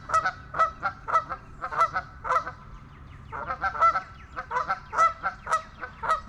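A flock of geese honks repeatedly nearby, loud nasal calls in quick uneven bursts with a brief pause midway, over faint background rumble.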